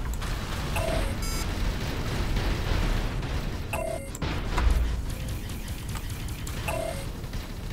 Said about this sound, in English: I'm gonna take them out because they are firing on my ships